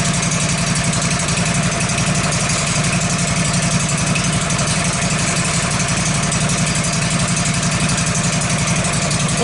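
A 19 horsepower Kohler engine on an LT15 Woodmizer sawmill idles loudly and close by after an oil change, producing a steady, even mechanical drone with a constant low throb and no changes in speed, with no talking.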